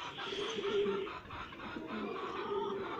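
Chickens in a farm run cluck softly and intermittently at close range, a quiet low murmur of hen calls over faint background noise.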